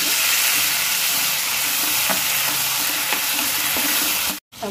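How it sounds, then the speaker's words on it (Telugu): Tomato pieces frying in a pan for a spicy brinjal masala curry, a loud, even sizzle close up with faint stirring taps, cutting off abruptly just before the end. "టమాటా ముక్కలు వేసుకొని ఫ్రై చేసుకోవాలి"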